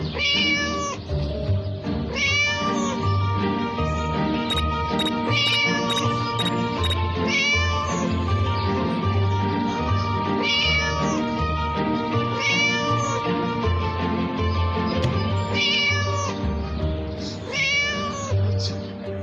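Repeated cat meows over a constant backdrop of game music, loud and close, coming every second or two throughout.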